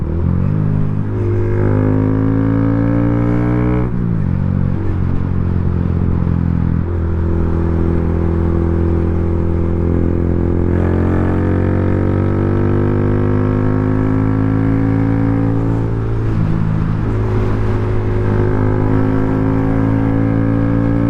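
A 2025 Honda Grom motorcycle fitted with a DHM stage 2 engine being ridden, its loud, steady, close engine drone filling the whole stretch, with pitch rising and dropping through gear changes and throttle surges.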